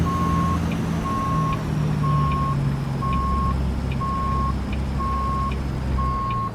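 A truck's reverse warning beeper in American Truck Simulator sounds a steady series of evenly spaced loud beeps, about one every 0.7 seconds, over a constant low engine rumble with no talking.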